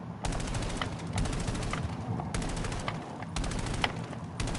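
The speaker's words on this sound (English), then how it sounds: "this is what happens when I keep on shooting them" Rapid automatic gunfire from Call of Duty Black Ops 7 gameplay, several sustained bursts of loud, dense shots with short pauses between them.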